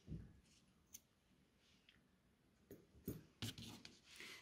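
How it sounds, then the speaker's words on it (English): Scissors snip through crochet yarn, a few sharp close clicks and cuts scattered over a quiet background. "Chain 1 and then cut your yarn, leaving a length to weave in."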